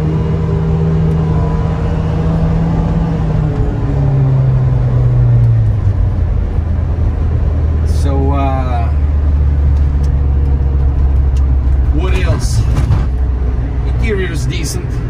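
A supercharged engine in a 1990 Subaru Sambar Dias II AWD kei mini van idles with a steady low hum that shifts pitch as revs change. Someone talks over it throughout.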